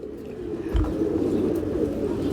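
A female pigeon coos in low, rolling murmurs close by, a continuous soft throaty burble with a brief thump partway through, and no voices.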